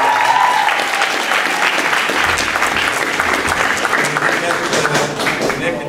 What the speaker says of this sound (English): So we want to give them a big round of applause.